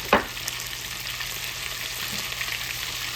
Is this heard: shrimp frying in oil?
yes